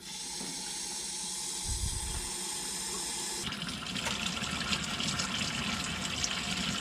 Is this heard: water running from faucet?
yes